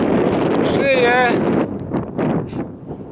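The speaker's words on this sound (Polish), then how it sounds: "jaki piękny wiatr." Steady wind rushes and buffets the microphone throughout, with a brief high whistling tone early on and faint voices underneath.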